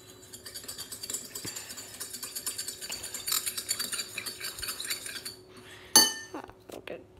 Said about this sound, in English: You want to stir.